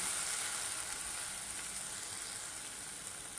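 Three finely chopped green chillies and a spoonful of cumin sauté in hot oil, giving a loud, steady, hissing sizzle that holds evenly throughout, close by with no talking.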